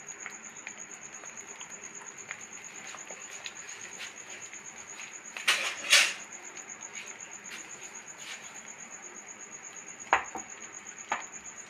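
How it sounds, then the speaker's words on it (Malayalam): An egg frying in coconut oil in a pan, with a faint, steady sizzle throughout and a few brief louder crackles and clatters partway through. "സാധാരണ മുട്ട പൊരിക്കില്ലേ, അതുപോലെ മുട്ട പൊരിക്കണം"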